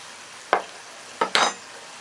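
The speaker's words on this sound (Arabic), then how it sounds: "نتابع شويه تقليب اللحمه" Meat stirred in a pot for Korean miso soup: three short scraping, sizzling strokes, one alone and then two close together, near and fairly loud over a quiet kitchen background.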